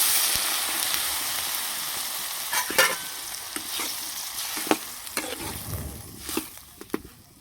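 A little water poured into mixed vegetables frying with spices and salt: a loud hissing burst at first that gradually dies down, followed by scattered clanks and scrapes of stirring.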